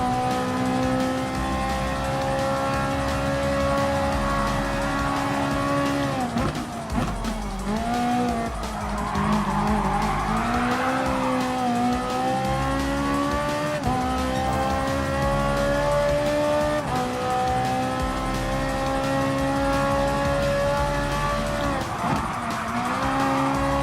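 A Ferrari 458 Italia GT3 races in Gran Turismo Sport, its engine wailing steadily at high revs, with pitch climbing and dropping through gear changes and a stretch of tire squeal partway through. The sound is loud and continuous, with no voices.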